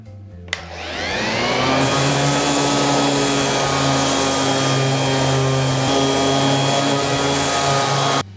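A Ryobi ROS300A random orbital sander with 180-grit paper starts up with a click and spins up to a loud, steady whirring roar that runs on without a break.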